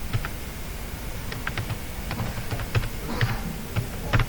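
Search keyword typed on a computer keyboard, with light irregular key clicks at close range against a steady low background hum, no voices.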